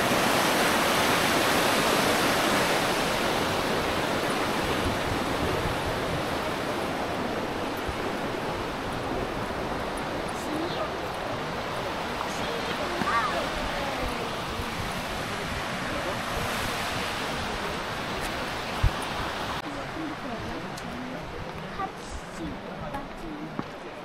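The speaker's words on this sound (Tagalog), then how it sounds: "Ganda ng falls." Waterfall at Johnston Canyon in Canada, a steady broadband roar of rushing water that holds nearly constant throughout, with faint voices talking underneath.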